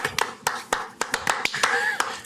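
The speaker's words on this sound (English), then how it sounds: "Clap together." Sharp hand claps ring out in an irregular series of about ten, close and crisp, with voices murmuring faintly underneath.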